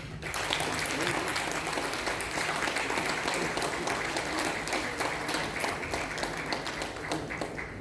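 Audience applause at a Belarusian folk festival, dense steady clapping from a large crowd held at full strength throughout, close and loud with no break.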